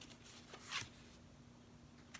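Tarot deck of cardboard cardstock being shuffled by hand, a few soft, brief riffling bursts close up and quiet, with no speech.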